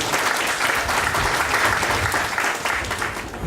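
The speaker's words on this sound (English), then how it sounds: "please give them another hand of applause" A crowd at an evening reception applauds steadily and loudly throughout, dense clapping with no pauses.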